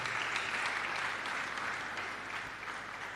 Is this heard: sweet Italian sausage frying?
no